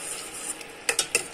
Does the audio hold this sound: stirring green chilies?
yes